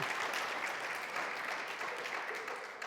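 A church congregation gives a steady wash of applause at a worship service, fairly faint and continuous with no break, like dense clapping heard from a distance.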